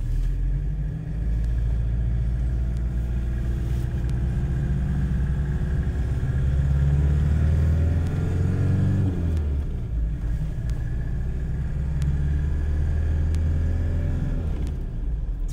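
A 1991 Toyota Hilux engine while driving, with a steady loud rumble that rises and falls as it revs and shifts gears midway, and no talk over it.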